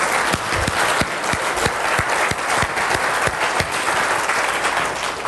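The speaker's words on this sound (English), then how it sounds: "First of all, let's give a big round of applause for Jesse for last night." Many hands clap at once as a tech conference audience applauds, a loud, sustained patter with a few sharper individual claps standing out through roughly five seconds.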